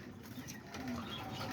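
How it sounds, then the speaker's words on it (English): Small whistling birds in a home aviary holding parakeets, lovebirds and cockatiels give faint, brief chirps and whistles over a soft, steady background hum. "And then there's a little whistler right there."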